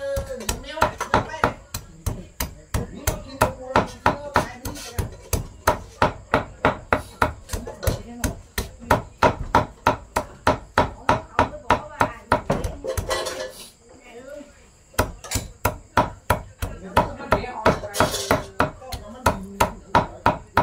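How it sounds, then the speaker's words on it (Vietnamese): A cleaver chops meat filling for a Vietnamese blood-soup dish at a stilt house, producing steady rapid thuds on a board that continue throughout with only a brief pause, while people talk underneath. "Chú băm nhân đánh cái canh."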